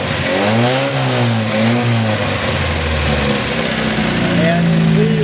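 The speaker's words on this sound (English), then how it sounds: "As far as the car revs freely" A 1973 Datsun 610 race car engine, running rich with the choke on, revs up and down repeatedly, loud and close, its pitch climbing and falling in smooth sweeps before settling.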